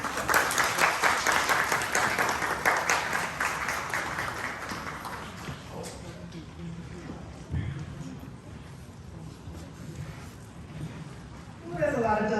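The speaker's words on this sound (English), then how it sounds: "Can we give another round of applause to all of our seniors and to the families?" Audience applause at a senior ceremony, loud, dense clapping for about six seconds that thins out and fades, then a fresh burst of clapping swells at the very end.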